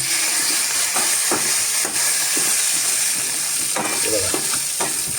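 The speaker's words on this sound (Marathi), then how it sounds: "ही फोडणी आपल्याला या सांबारावरती ओतायची आहे." Tempering with chana dal, a spoon of asafoetida and curry leaves sizzles in hot oil before being poured onto Udupi-style sambar; a steady close frying hiss with occasional stirring scrapes and soft knocks, no voices.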